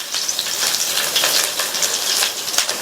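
Chopped ginger and small garlic cloves sauté in a pot, giving a steady, close, bright sizzle with crackling bursts and no talking.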